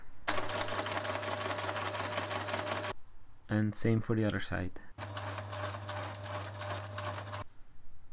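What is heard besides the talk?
sewing machine sewing underwear watch band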